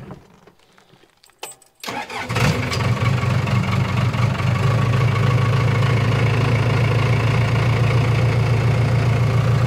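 Broken bulldozer engine cranking after a few faint clicks and clunks, catching at about two seconds, then settling into a loud, steady, low diesel idle with a rough knocking rhythm, close by and alone.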